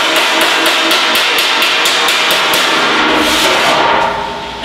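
Hammer striking a steel panel held against a curved piece of steel used as a dolly, a rapid series of loud, sharp metallic taps in steady rhythm, close up and alone.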